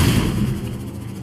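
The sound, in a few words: repulsor grenade explosion in a video game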